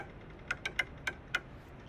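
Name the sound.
drumming with sticks on a fence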